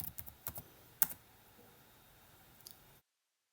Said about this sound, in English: So where you can type node.js hyphen version.